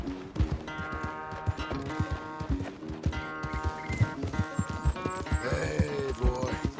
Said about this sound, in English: Where's that big mean horse?